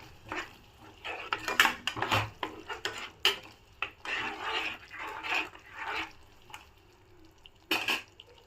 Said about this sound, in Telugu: వన్స్ అగైన్ ఒకసారి మిక్స్ చేద్దాం.